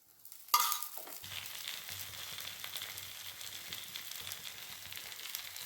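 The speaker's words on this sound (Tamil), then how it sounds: "அடைக்கு வந்து நிறைய எண்ணெய் ஊற்றினா தான் நல்லா வேகும்" Urappu adai frying in plenty of oil in a pan: a sharp initial burst, then a steady, close, continuous sizzle and crackle with no voices.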